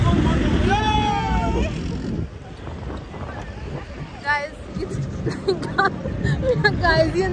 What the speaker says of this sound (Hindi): now I am having a jeep ride and it's really very exciting event